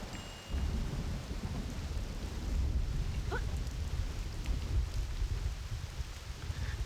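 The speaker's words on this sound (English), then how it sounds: "the full-on lightning thunder thing, it's perfect." Thunderstorm in the Black Desert Online game world: a steady, loud wash of rain with deep rolling thunder rumbling underneath throughout, no talk.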